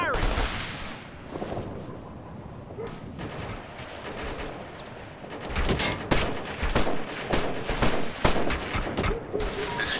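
Rifle fire in the military shooter Operation Flashpoint: Red River, bursts of shots crackling in a dense, echoing fusillade that grows louder and heavier toward the end.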